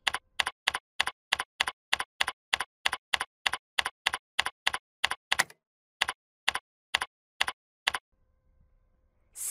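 Steady keystrokes on a computer keyboard tick in a quick even rhythm, pause, then resume with a few slower, separate presses before a final key press, close and clear with no speech.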